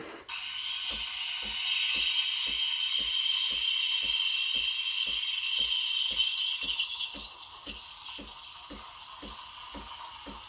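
A steady, loud steam hiss fills the clip, with a rhythmic low ticking pulsing beneath it, as a Breville Barista Express BES860 steam wand froths milk.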